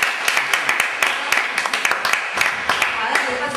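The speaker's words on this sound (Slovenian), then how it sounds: "Drugač bi je še za en aplavz, lepo prosim." An audience gives a lecture on diagnosing microbial plant pathogens a round of applause, with scattered, uneven claps close by over a steady crowd murmur.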